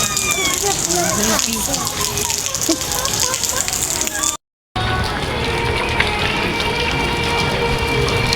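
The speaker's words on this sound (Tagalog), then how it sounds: "magpapatila kami ng ulan kasi ang lakas ng ulan." Heavy rain pours down in Vigan, a dense, steady hiss and splatter on surfaces, briefly cut off before resuming, with voices speaking faintly beneath it.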